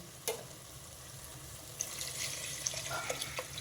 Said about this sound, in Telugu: ఇప్పుడు ముందుగా తీసి పెట్టుకున్న చింతపండు పులుసు వేసేసుకోవాలండి